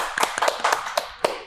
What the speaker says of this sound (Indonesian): Tepuk tangan guys buat Pak Eli dan Bu Triana.